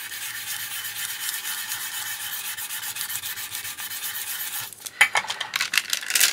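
A smoothing stone rubs gently over polymer clay, making a soft, continuous scraping swish close up, with a few louder strokes near the end.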